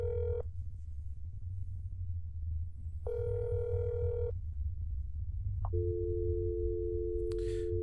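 Phone call going unanswered in the game That's Not My Neighbour: steady repeating ring tones with long pauses, ending in a sustained flat tone, over a constant low hum.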